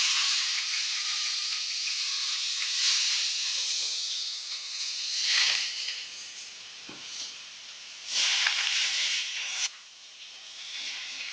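Onions and peppers fry in a hot pan, giving a steady sizzling hiss that swells and dips as the vegetables are stirred, with no talking.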